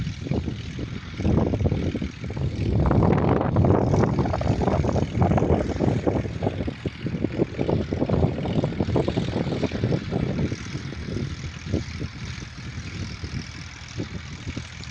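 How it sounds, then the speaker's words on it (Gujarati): A tractor engine drives across a farm field at sowing time, a steady low rumbling drone with chugging pulses that stays loud and continuous for the whole stretch. "ટ્રેક્ટરનો અવાજ આવતો હશે તમને."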